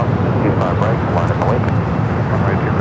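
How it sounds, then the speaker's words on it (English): A Cargo King jet taking off at LAX, a heavy broadband engine roar holding steady and loud throughout, with wind buffeting the microphone and a voice talking over it. "We got Cargo King up next for takeoff."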